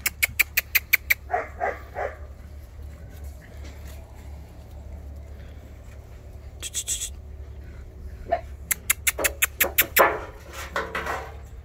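Two-month-old Cane Corso mix puppies yelp and bark in quick high-pitched bursts, clustered at the start and again toward the end, with quieter scuffling between and a low steady hum underneath.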